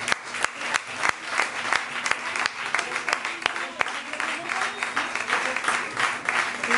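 An audience claps steadily with dense, sustained applause and sharp individual claps that carry on evenly after the Radetzky March at a science talk, with some voices mixed in.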